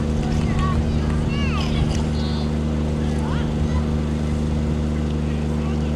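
Consolidated PBY Catalina flying boat passing over an air festival, a steady loud droning engine hum that stays level throughout, with a commentator's voice and crowd sounds over it.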